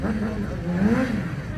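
A motorcycle sliding in a rear-wheel drift on a rear tyre inflated to 4 kg pressure, its mid-pitched engine droning steadily and swelling slightly as the revs rise and fall, close and fairly loud, with no talk over it.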